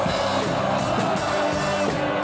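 A capacity crowd at a concert in Kolkata's Nazrul Manch Auditorium yells and whoops in a steady, loud, dense roar that does not let up.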